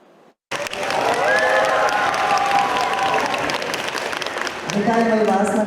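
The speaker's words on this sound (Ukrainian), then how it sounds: "Так самі собі аплодують луцькі школярі" A crowd of schoolchildren in Lutsk applauds themselves at an event, loud continuous clapping with a mix of voices and cheers, and a voice talking over the end.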